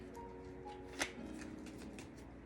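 Tarot cards are shuffled by hand with a soft, continuous riffling and a single sharper snap near the middle, quiet and close with no speech.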